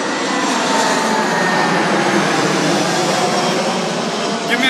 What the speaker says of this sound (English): We got a plane coming in a second, so it's about to get loud